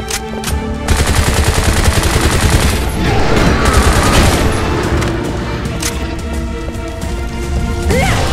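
Dense, loud rapid-fire gunshots and explosive bursts from the video game Bright Memory pound almost continuously, with automatic fire rattling over booms and crashes.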